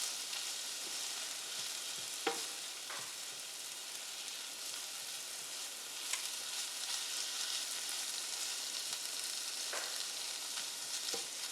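Corn kernels roasting in a pan for a pasta salad give off a continuous soft sizzle, with a few sharper pops and crackles scattered through it and no talking.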